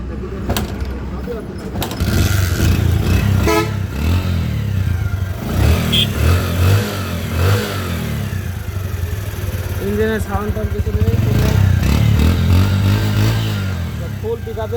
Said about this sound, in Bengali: আপনাদের একটু সাউন্ড আমি শোনাই দিই ইঞ্জিনের সাউন্ড খুব ভালো আছে